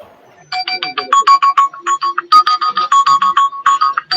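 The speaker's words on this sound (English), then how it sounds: "Man, that's my alarm." A loud, rapid electronic ringtone-style phone alarm plays at midnight, pulsing in quick repeated tonal bursts with a bright melodic pattern that continues steadily throughout.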